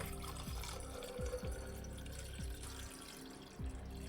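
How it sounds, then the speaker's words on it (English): Water is refilled in the video game Zoo Tycoon 2, a continuous gushing, splashing stream like a running tap, close and steady throughout. "we get to hear the wonderful pissing noise of me refilling my water"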